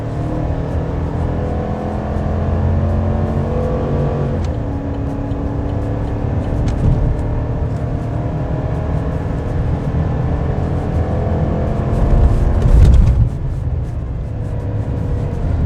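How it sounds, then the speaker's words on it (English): A Chevy 1500 pickup's 5.3L V8 rumbles steadily as it accelerates hard onto a highway, a loud, continuous low drone with rising harmonics and a brief surge near the end. "you guys might be able to hear that V8 rumble, but we are doing our second acceleration test, getting onto the highway"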